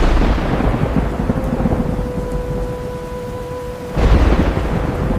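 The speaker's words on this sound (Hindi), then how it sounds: "रात को तूफान मजीद तेज हो गया।" A heavy thunderstorm with steady, dense rain fills the whole stretch, a faint siren-like tone rising briefly in the middle before a fresh loud surge of rain and rumble near the end.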